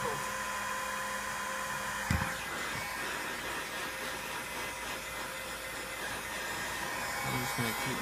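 A heat gun blows steadily while heating and softening material being folded over for an aero port, a continuous airy hiss and hum running the whole time, with a brief knock near the start and light handling noises toward the end.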